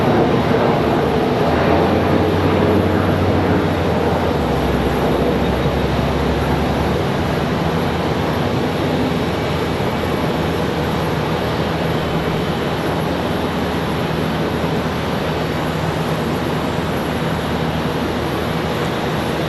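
Contour Airlines airplane at Charlotte Douglas airport, a steady loud engine roar holding for about twenty seconds, with a low droning hum near the start that fades out, no talk.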